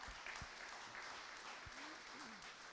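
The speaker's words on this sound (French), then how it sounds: "Je vous demande de l'applaudir, s'il vous plaît" A conference audience applauds for a speaker at a French talk on composable commerce, dense and continuous clapping throughout with faint voices underneath.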